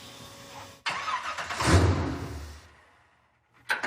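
A pickup truck muscle build cranks and catches, a sudden burst of engine noise that swells into a brief rev, then fades away before another short burst at the end.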